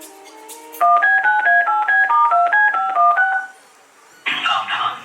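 A quick run of about a dozen phone keypad beeps in an even rhythm, loud and close, on stage in a dance theatre show, after brief music and before a burst of noise.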